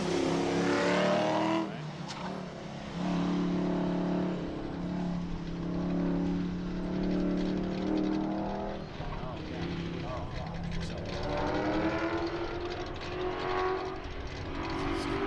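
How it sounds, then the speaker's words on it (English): A 1969 Camaro race car at a muscle-car shootout roars toward the finish line, its engine droning loudly with rising and falling revs as it passes. "Schoonmaker coming around, heading for the finish line, the 69 Camaro"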